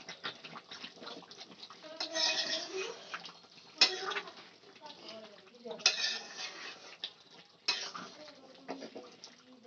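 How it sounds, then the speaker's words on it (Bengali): A metal lid clanks as it is lifted off a pot of simmering chicken darvesh, with a few sharp clatters over a low sizzle and stirring in a home kitchen. "এবার আমি ঢাকনাটা তুলে দেখে নেব"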